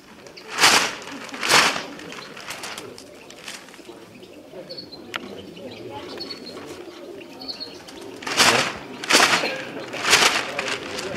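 Pigeons flap loudly in bursts of wingbeats while soft cooing and chirps carry underneath, with someone talking at times outdoors.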